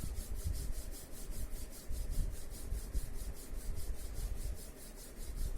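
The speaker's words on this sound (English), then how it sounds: "Fold your hands, rub your two hands." Two hands rubbed briskly together during a guided relaxation meditation, a steady rhythmic swishing friction with even back-and-forth strokes, close and fairly quiet, no talking.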